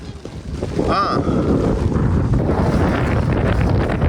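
Heavy wind from severe weather in Jaffna buffeting the microphone with a constant low rumble and roar, a brief tonal whine rising briefly near the start.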